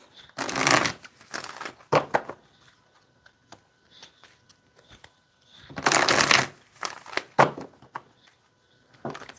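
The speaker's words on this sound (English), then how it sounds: "I'm going to do 2 more shuffles." A deck of oracle cards is shuffled up close in two distinct bursts of rapid riffling. Short taps and shuffles sit in between, set against a quiet room.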